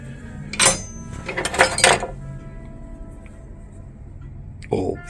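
Old cutlery and wooden spoons handled in an antique store, giving a few light clinks and rattles in short bursts near the start, then quiet room tone and a final soft clatter.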